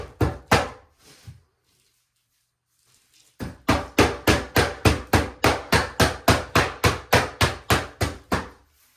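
Dry-pack mortar being packed into a shower pan mud bed: a few isolated thumps, a pause, then a steady run of about sixteen evenly spaced, solid thuds, close and distinct.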